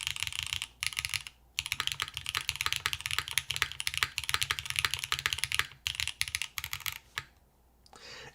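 Rapid, crisp keystrokes on a Jahre 65 mechanical keyboard fitted with alternate gaskets come in quick bursts with short pauses, close and clear, with no talking.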